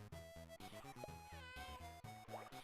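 A kitten-style meow cue from the Super Auto Pets game, bright and close, layered over a busy, steady musical backing for nearly three seconds.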